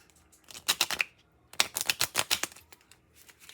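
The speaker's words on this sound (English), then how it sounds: "I'm going to do one shuffle, pull a card" Tarot cards being shuffled, two quick bursts of crisp riffling flutters separated by a short pause, close and fairly clear.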